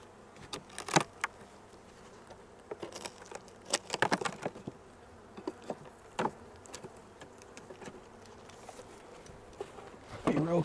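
Honeybees around an open beehive during hive inspection, with faint intermittent buzzing and sharp clicks and knocks of hive frames being handled close by, quiet between bursts.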